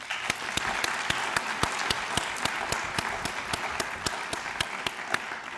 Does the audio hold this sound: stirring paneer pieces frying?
no